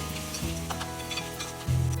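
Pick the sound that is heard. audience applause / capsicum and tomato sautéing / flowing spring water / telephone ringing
capsicum and tomato sautéing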